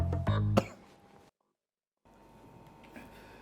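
One loud, rough cough or throat-clearing burst from close by, then a brief silence and a quiet room hum.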